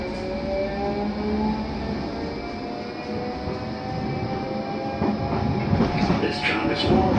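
A Blackpool tram running toward Fleetwood Ferry hums and rumbles steadily from inside the car, with a rising motor whine and rattles, while an onboard announcement voice speaks over it.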